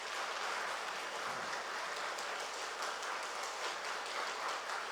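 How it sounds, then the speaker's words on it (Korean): A church congregation applauds at a Sunday morning service, a steady and fairly soft wash of many hands clapping that holds without a break from start to finish. "또 뜨겁게 여러분 박수 좀 한번 해주세요."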